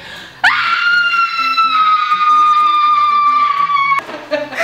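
A person voice-acting a villainous version of the anime character Deku lets out a long, sustained, high-pitched scream. It is loud and close, holds steady for about three and a half seconds and is cut off abruptly, with faint background music underneath.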